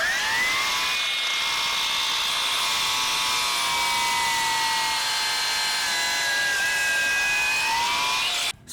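A Milwaukee M18 Fuel 12-inch cordless miter saw whines steadily through a treated 4x6, a sustained high-pitched motor and blade tone lasting several seconds before stopping abruptly at the end.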